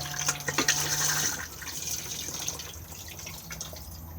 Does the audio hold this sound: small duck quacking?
no